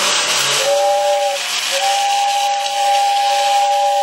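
An Overland Express toy tin train switched on gives a steady hissing whir with a thin whistling tone that breaks briefly and resumes, loud and continuous, without talk.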